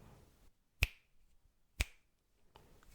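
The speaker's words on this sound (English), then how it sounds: "All we gotta do is a quick sync clap." Two separate sharp sync claps made to line up audio and video, about a second apart, each crisp and close against near silence, with faint rustling before and after.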